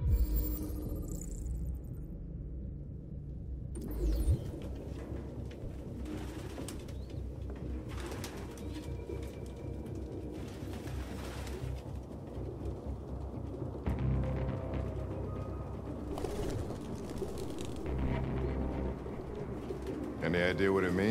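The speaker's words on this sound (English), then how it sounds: "No human could live with all these fucking pigeons." Pigeons cooing inside an apartment in the video game Detroit: Become Human, a steady low burbling chorus with occasional soft wing flutters, no talking.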